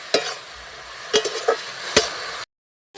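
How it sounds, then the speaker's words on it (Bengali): Stirring in a hot wok with steady sizzling frying, punctuated by several sharp scraping clacks of a spatula against the pan, then a brief silence. "একটু নাড়িয়ে নেবো ভালো করে"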